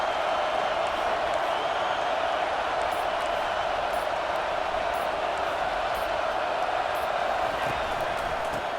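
A college football stadium crowd at a USC versus UCLA game roars in a dense, sustained wall of cheering and noise, steady and loud throughout without pause.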